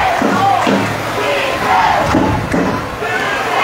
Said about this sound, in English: Husky crowd coming alive